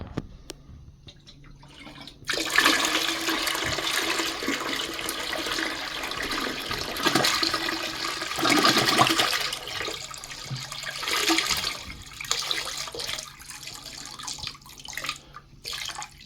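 Dirty water dumped out of a car seat extractor's recovery tank, a steady rushing, splashing pour that runs for several seconds close by, then trickles and drips toward the end.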